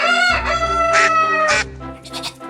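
A rooster crows loudly and close by in several long, harmonic calls, one after another with short breaks between them and no talking.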